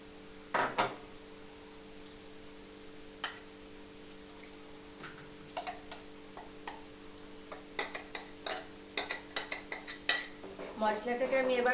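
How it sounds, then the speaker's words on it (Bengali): Spice paste for palak paneer is stirred in a hot wok with a metal utensil, giving sharp intermittent clinks and scrapes that grow busier toward the end over a steady low hum, with no clear sizzle. "মশলাটাকে আমি এবার ভালো করে কষিয়ে নেব যতক্ষণ না তেল উঠে আসে।"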